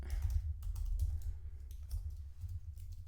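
Code being typed on a computer keyboard, quick irregular key clicks at a fair distance over a low background hum.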